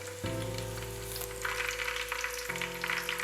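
Curry leaves and small shallots frying in hot oil for a Kerala-style beef curry, with a steady sizzle that jumps into a louder, crackling spatter as the leaves hit the oil, over a low stove hum.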